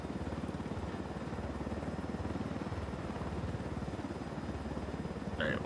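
A helicopter in the video game Ghost Recon Wildlands flies with a steady, loud rotor chop that pulses evenly throughout, joined by a brief extra noise near the end.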